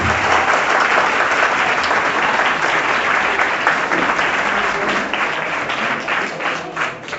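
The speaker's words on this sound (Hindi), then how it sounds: "एक बार जोरदार तालियों के साथ इनका स्वागत करें।" A seminar audience gives loud, dense, sustained applause to welcome Major Pawan Kumar Khichar, a Shaurya Chakra recipient. The clapping is a steady roar that holds throughout and eases slightly near the end.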